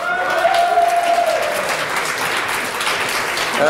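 A television studio audience applauds loudly and continuously, a dense wash of clapping with a few whistles and cheers mixed in.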